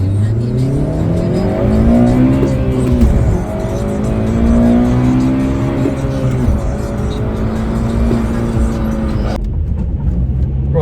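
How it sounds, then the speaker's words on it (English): Honda Civic Type R FN2 with its K20 engine, heard from inside while driving: a loud, steady engine drone that rises and falls through revs, cutting off abruptly near the end. "Right, so we're driving the car"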